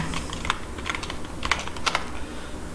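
Quick, uneven keystrokes clatter on a computer keyboard, close and clear, with small clusters of taps and brief gaps between them.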